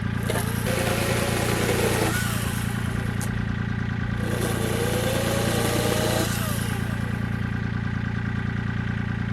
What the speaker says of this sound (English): It's a little electric chainsaw.